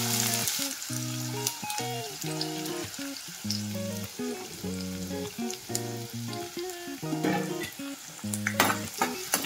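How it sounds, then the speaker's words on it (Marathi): Chopped onion frying in hot oil in a kadhai, a dense crackling sizzle broken by rhythmic scraping and stirring strokes, close and steady throughout with no voices. "तेल तापलेलं आहे आणि आपण फोडणीसाठी कांदा टाकू."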